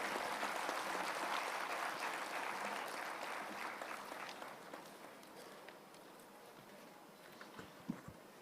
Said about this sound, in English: let us now, with a rousing round of applause, welcome our Chief Guest, Dr. P.K. Mishra